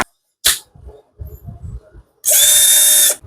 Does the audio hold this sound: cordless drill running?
yes